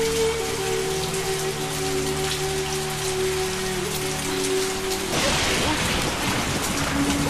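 Heavy rain pours down steadily and loud, with a low tonal hum underneath that stops midway. After that the downpour sounds fuller and closer.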